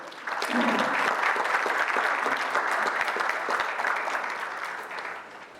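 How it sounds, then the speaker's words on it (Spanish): Strong audience applause welcoming a guest speaker at a university event in Cotopaxi, a dense sustained roar of clapping that swells quickly, holds steady, then gradually fades. "Un fuerte aplauso para recibirlo"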